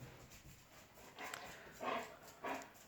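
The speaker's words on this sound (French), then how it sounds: "J'ai la chienne qui entend les poules et les canards du voisin." A dog outdoors, reacting to a neighbour's hens and ducks, makes faint, distant whimpers and soft yips in two or three short bursts over steady background hiss.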